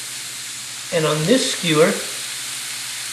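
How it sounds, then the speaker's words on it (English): Beef skewers sizzle on a hot grill with a steady, broad hiss that runs through the whole clip, while someone speaks briefly over it. "Can you hear that sizzle already and see that smoke?"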